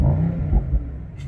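Brief rev of a 2022 Mercedes SL 63 AMG engine, a loud, deep rumble that swells and then drops off, heard alone.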